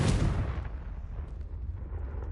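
A Confringo blasting spell explodes in a Harry Potter video game: a loud, deep boom bursts at the start, then decays into a long rumbling roar that gradually fades.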